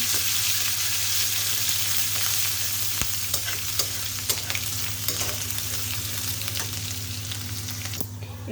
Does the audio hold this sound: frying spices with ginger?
yes